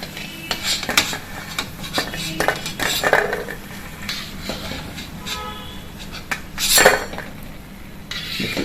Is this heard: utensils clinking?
yes